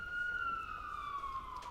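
Siren at a cricket match in the Guyana Inter-County Super 50, a distant wailing tone that slowly falls in pitch over a low crowd murmur.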